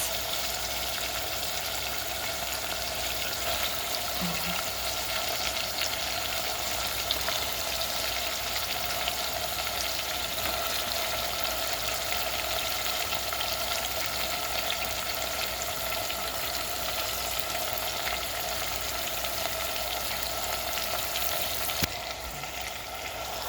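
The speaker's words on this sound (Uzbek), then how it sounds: "Piyozni solib, piyozni qovuramiz." A continuous, even sizzle of onions frying in a pan carries on for a long stretch, with barely any other sound.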